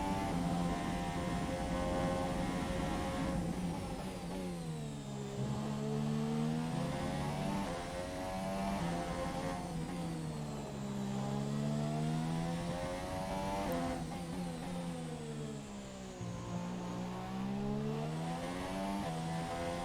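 F1 2017 video game race car screaming down the start-finish straight, a loud continuous high-revving engine whine that rises through the gears, with short dips at each shift, sustained throughout.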